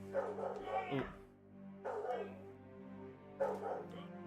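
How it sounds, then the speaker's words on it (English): A pet dog indoors barks and yips in three separate bursts, fairly close and loud, with a whimpering edge between them. "My dog is losing his mind. You might be able to hear him."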